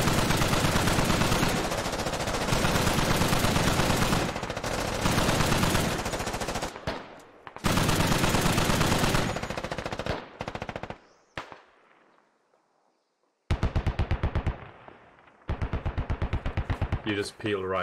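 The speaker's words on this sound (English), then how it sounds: "Can the Dishka return fire on Tinkerbell here?" A Dishka heavy machine gun fires in the video game Squad, loud sustained bursts of rapid automatic fire broken by short pauses and a near-silent gap before more clipped bursts resume.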